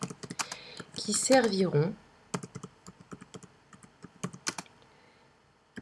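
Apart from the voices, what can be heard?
typing comments on a computer keyboard in PowerPoint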